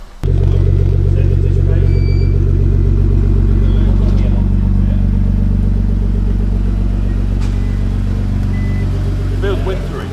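A cheap Nissan GT-R being driven, heard from inside as a loud, steady engine drone with a deep rumbling hum that holds throughout and eases slightly at the end, with faint voices in the background.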